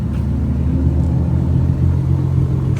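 A 3.6-litre V6 car engine idling nearby, a steady low rumbling hum with an even, unchanging rhythm and no talking.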